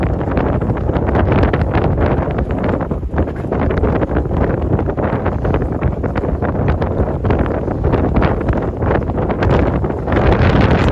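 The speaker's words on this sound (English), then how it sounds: "Yes, it is windy, guys. It is windy." Constant heavy wind buffeting the microphone outdoors at Coney Island and Bay Ridge, New York City, a loud broadband roar with gusty fluctuations throughout and no other clear sounds.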